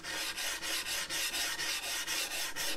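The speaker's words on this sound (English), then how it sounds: "just continue draw filing with the stone" A sharpening stone is drawn back and forth along an axe edge, a steady rhythmic rasping of about ten even strokes, close and clear with no talking.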